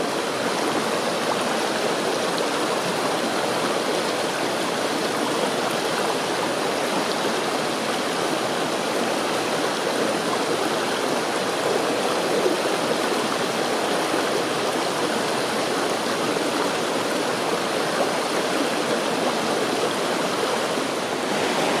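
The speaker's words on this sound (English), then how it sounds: "this is downstream about 100 yards as the brook heads downhill" A rocky brook at an old mill site on Rock House Road in Goshen, Connecticut runs downhill over stones, its steady close rushing and splashing constant and loud for the whole stretch, with no voices.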